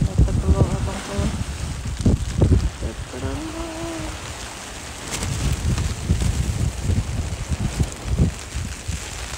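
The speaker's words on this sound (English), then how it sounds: "Rain is here. Not as much, but the wind is pretty strong." Strong wind and rain sweep across San Pablo Bay during a rainstorm while striper fishermen are out, a steady broadband rush buffeting the microphone, with a few brief voices and tonal sounds near the start.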